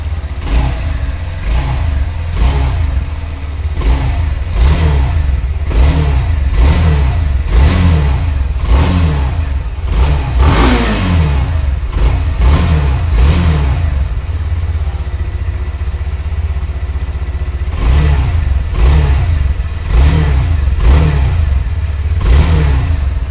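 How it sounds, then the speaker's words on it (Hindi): Hero Xtreme 160R BS6 motorcycle running close by, its exhaust note rising and falling through a series of repeated throttle blips and revs, loud and steady over about twenty seconds with no talking. "तो मैं स्टार्ट करता हूँ गाड़ी और सुनिए इसकी एग्जॉस्ट की साउंड नोट"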